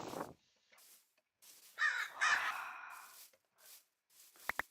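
A crow caws several times, harsh rasping calls spaced irregularly, some louder and nearer than others, with quiet gaps between and a couple of sharp clicks near the end.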